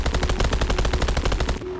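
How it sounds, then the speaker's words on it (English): Rapid automatic gunfire from a weapon in the VR game Bonelab with the Advanced Warfare mod, a steady rattling burst of evenly spaced shots, loud and close, with no talking. "Definitely one of the cooler guns in Advanced Warfare."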